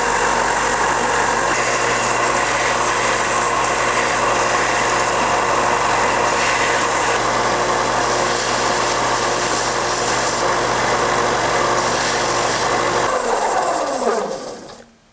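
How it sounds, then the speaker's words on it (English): A grinder whirs steadily at high speed, shaping a bass lure body, loud and close for most of the clip before the motor winds down and falls silent at the end. "I'm gonna use that as my center point to grind down to as I sand this shape in."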